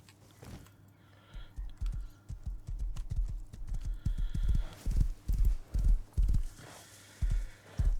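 A horse running in the video game Rust: a series of thudding hoof beats that grow heavier and more regular, loud and close, with a faint click-like texture over them.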